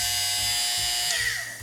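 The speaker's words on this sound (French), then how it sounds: "il va venir comme un petit aspirateur aspirer le textile et il va venir couper les bouloches" A battery-powered lint remover buzzes steadily with a high whine as its blades shave pills off fabric, close and loud, its pitch dipping briefly near the end as it presses into the textile.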